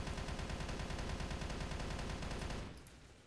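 Rapid automatic gunfire from the shooter game Battle Carnival, a dense, steady, loud burst lasting under three seconds before it cuts off and fades.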